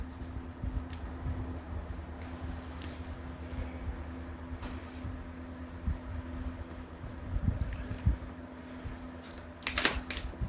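Rapid, light mechanical clicking from a fuel injector solenoid on a 1997 Toyota Supra JZA80 3.0 L twin-turbo 2JZ-GTE being pulsed open, ticking steadily against a constant low hum, with a sharper burst of clicks near the end.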